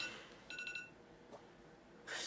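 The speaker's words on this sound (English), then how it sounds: "I don't know why my alarm went off" A phone's bedtime alarm beeps in a brief, faint run of quick repeated tones against a quiet room hiss.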